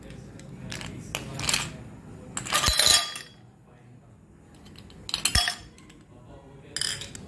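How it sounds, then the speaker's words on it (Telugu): Ice cubes drop into a glass of cocoa Oreo milkshake in a home kitchen, giving several separate bright clinks and rattles in short bursts with quiet gaps between them. "చూడండి ఫ్రెండ్స్, ఐస్ క్యూబ్ వేసుకుందాం కొన్ని"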